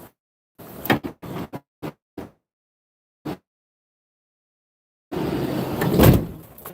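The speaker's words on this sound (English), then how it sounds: "as that door slides all the way" A Ford Transit all-wheel-drive van's sliding side door gives a series of short clunks and rattles, then a pause, then a longer rolling slide and thud as it moves along its track.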